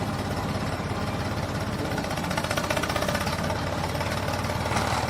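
Toy tractor engine noise, a dense steady rattling drone with a fast knocking pulse, loud and continuous throughout with no talk.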